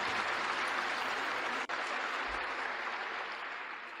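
Large audience at the 2001 Berkshire Hathaway annual shareholder meeting applauding, a dense sustained clapping from a big hall that holds steady and fades slightly toward the end.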